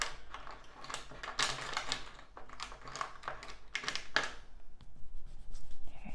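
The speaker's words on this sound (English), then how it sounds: "I'm gonna erase all the guidelines" A pencil eraser rubs out guidelines on a manga-style drawing on paper, giving quick, close, scratchy bursts of friction in irregular strokes with brief pauses between them.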